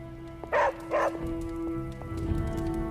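Charlie the dog barks twice in quick succession in the video game Marvel's Midnight Suns, two short, fairly loud barks close by over a steady background tone.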